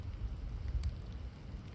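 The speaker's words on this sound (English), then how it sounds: "It's not coming down pouring rain right now" Light rain patters outdoors in wet conditions, a quiet, steady low hiss with a faint brief crackle partway through.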